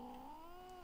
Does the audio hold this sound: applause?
no